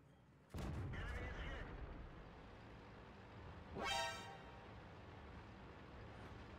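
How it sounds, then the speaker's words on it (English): A tank cannon fires in World of Tanks with a sudden loud, booming blast followed by a rumbling tail, then a rising whoosh a few seconds later over steady battle noise. "if I'm able to get a free shot in, quickly back up, they will not be able to return fire"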